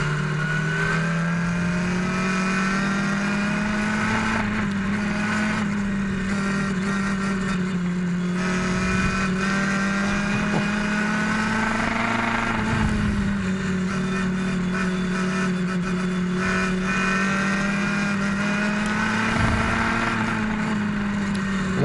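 Race cars at an oval track droning steadily as they come around to take the green flag, a continuous loud engine roar that swells and fades slightly as the pack passes, with no talking.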